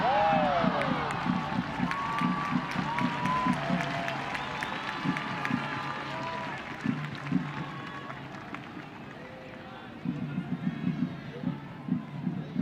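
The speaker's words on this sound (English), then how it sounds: "Great crowd on hand at Stade Boreal" Fans at Stade Boreal cheer and whoop through a Northern Super League soccer match between Montreal Roses FC and Calgary Wild FC, a steady crowd roar with scattered claps under continuous commentary.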